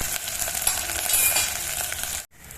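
Rice and ground masalas sizzle and crackle steadily in a pot over a low flame, with scraping stir sounds throughout, close and clear until a brief break near the end.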